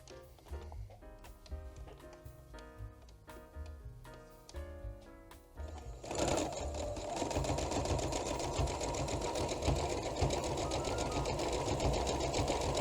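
A sewing machine runs a zigzag seam on sweatshirt fleece, starting with quick stop-start bursts of ticking needle strokes, then settling into a steady, fast, continuous whirring stitch, close and moderately quiet with no talking.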